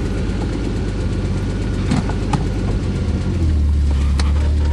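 A Ford Fairmont engine with failed brakes runs with a loud, steady low rumble close to the microphone, then settles into a heavier, deeper idle near the end, with no talk over it.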